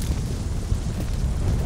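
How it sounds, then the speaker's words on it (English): A deep, rumbling explosion from the Android action game City Of Outlaws, a dense low boom that sustains steadily for a moment and plays alone without speech. "Love explosions!"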